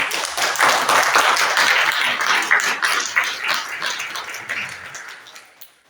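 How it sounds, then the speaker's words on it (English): Congregation at a spiritual center applauding everyone who shared, a dense round of clapping that swells quickly, holds, then thins and tapers off to scattered claps. "can we get one more round of applause for everybody who shared?"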